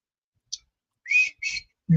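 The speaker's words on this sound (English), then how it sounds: "just a real soft like whistle." Soft human whistling, a few short airy breathy notes with brief gaps between them, faint and close, in an otherwise quiet space.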